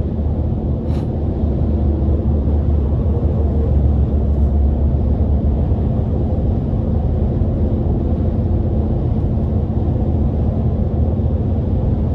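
A 2024 RAM TRX pickup truck drives down a road, heard from inside the cab as a constant, loud low rumble of engine and road noise with no talking.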